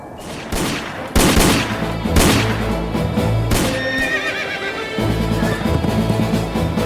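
Horses neigh and whinny near an old frontier camp as gunshots crack out, followed by a steady rumble of hooves as the herd bolts; loud, busy and continuous with no talk.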